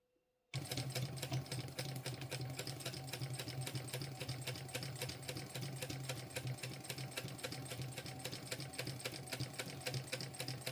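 Close and continuous, a sewing machine stitches along marked rectangle lines on a bum bag, its rapid even needle clatter starting abruptly after a short silence and running without a break.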